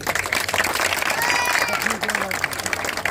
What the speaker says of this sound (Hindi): भाई साहब प्रदीप गिल जी के लिए एक बार जोरदार तालियां